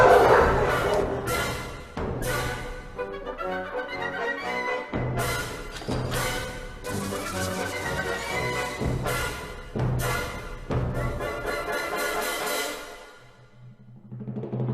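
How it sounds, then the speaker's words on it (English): Many dogs bark together in animal shelter kennels, a loud, echoing, near-continuous chorus of overlapping barks and yips that dies down briefly near the end. "So this is the area where most of our adoptable dogs reside. They stay in these kennels."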